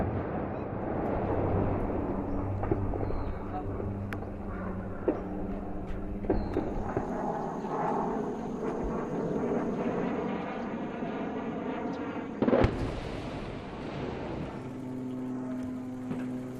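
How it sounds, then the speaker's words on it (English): Airstrikes over Marawi in the Philippines, in the 2017 battle against Islamic State, with bombers overhead: a continuous low rumble of aircraft engines, distant booms, and one sharp, louder blast near the end. "Over 4 days in Marawi, we watched airstrike after airstrike."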